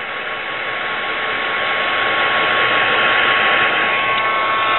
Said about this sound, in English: with our heat tool, we're going to heat emboss